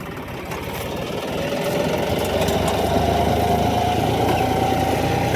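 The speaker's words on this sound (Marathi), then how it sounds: "आपलं ट्रॅक्टर ओढत आहे मित्रांनो 6 सेकंड मध्ये. 52 गेअर प्रो." A John Deere 5210 GearPro tractor ploughs a field in Latur district, its engine droning steadily at around 1100–1200 RPM, loud, close and unbroken, with no voices.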